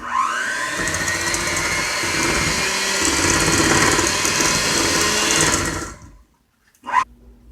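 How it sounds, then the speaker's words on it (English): Dry cupcake ingredients, including baking powder, are churned by an electric mixer in a steady, loud, close whir lasting about six seconds, followed by a quick short burst after a pause. "Now we mix the dry ingredients"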